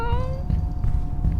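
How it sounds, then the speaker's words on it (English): A cat gives one short, rising-and-falling meow right at the start, close and clear, followed by a low rumble of background noise. "Also, we have a meow."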